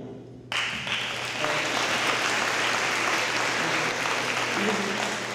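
Audience applauding at a National Honor Society induction ceremony, with steady, sustained clapping that starts abruptly and fills the room for several seconds, plus a faint murmur of voices underneath.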